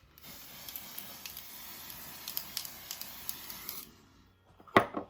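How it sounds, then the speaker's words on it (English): A series of short, quick spray bursts of mist foundation from a pump bottle, hissing in rapid rhythm for several seconds, then a pause and one louder spritz. "So you just kind of spray it on and go with that."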